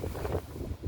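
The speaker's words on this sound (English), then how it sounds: "wind in Kosovo." Strong wind buffeting the microphone outdoors in Kosovo during stormy weather, a steady low roar with gusty swells across the short moment.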